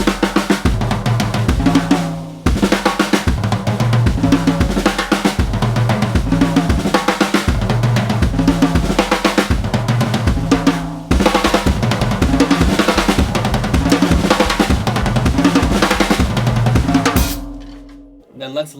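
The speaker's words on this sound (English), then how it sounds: "So we're working up the toms, which sounds like this." A drum fill works its way up the toms, a loud, dense and fast run of tom and kick hits played alone, with one short break before it drives on and then stops.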